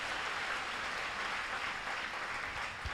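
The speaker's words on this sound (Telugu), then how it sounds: "అందరూ చేతులు పైకెత్తి గట్టిగా చప్పట్లు కొట్టి ప్రభువుని గణపరచారు" Congregation clapping hands loudly in praise at a Christian prayer and anointing worship service in Kakinada, a dense, steady wash of applause that stays even throughout, with no talk over it.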